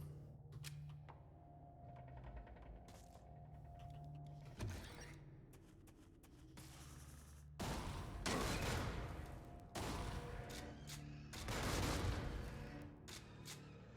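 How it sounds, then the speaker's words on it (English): Explosions going off in the sci-fi roguelike shooter game Jupiter Hell, a run of sharp bursts and rumbling blasts crowding together, heaviest in the second half, with no talk over them. "Everything's just exploding."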